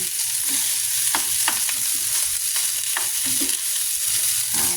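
Fried rice being stir-fried in a pan for a Filipino breakfast: a steady soft sizzle with repeated scraping strokes of a spatula. The strokes are irregular and close by, and no one speaks.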